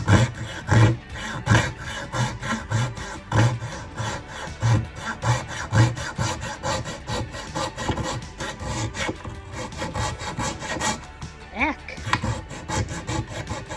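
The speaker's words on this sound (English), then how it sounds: "I'm gonna cut this wood" A fine-toothed hand saw cutting oak in a vise, with rhythmic back-and-forth rasping strokes close by, steady at first then continuing with a brief squeak near the end.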